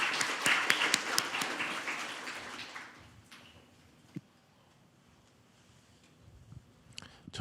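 Applause from an audience at a Korean National Assembly science policy forum, a few seconds of dense clapping that thins out and fades to quiet room tone, with a couple of isolated claps near the end.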